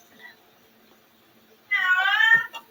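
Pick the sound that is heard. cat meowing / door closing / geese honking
cat meowing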